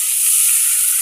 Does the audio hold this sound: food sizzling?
yes